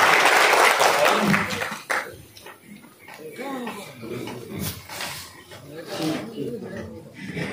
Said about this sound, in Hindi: तो एक बार इनके लिए जोरदार तालियां हो जाए